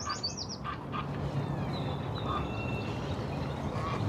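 Black ducks on a lake quack and squawk in a short burst of calls, mixed with higher bird chirps over a steady, even outdoor ambience.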